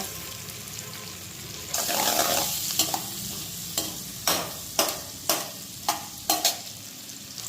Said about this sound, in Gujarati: ઓનિયન સેલો ફ્રાય થઈ ગઈ છે.